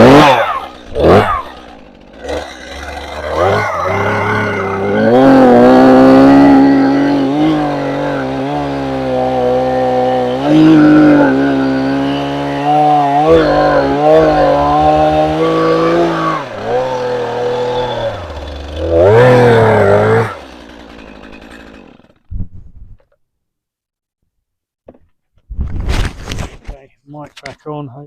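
A chainsaw cuts a log in half for wooden dumbbells, roaring loud and close for about twenty seconds with rising and falling engine pitch as it bites through the wood, then cuts out, followed by a few brief clattering knocks.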